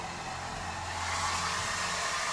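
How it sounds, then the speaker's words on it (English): A hairdryer runs in a steady, close, even blowing rush with a low motor hum underneath, used to heat a homemade Soldier 76 cosplay mask. "Take the hairdryer."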